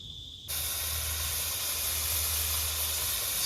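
Pork hitting hot oil in a pot outdoors bursts into a loud, steady broadband sizzle that holds without letup, with a low hum beneath.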